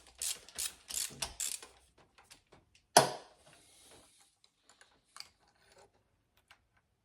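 A socket ratchet backs out a spark plug on a 1992 Toyota Camry: a close burst of rapid clicking, one sharp clank, then sparse scattered ticks and small knocks fading into near silence, with no voices.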